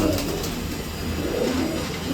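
Racing pigeons in a breeding loft in Nashik coo in soft, repeated murmurs against a dense, steady background of flock noise.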